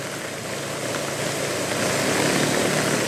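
Heavy rain pours down on a suburban street on the outskirts of Saigon in Nhà Bè, a dense, steady wash of noise that swells slightly louder toward the end, with no voices.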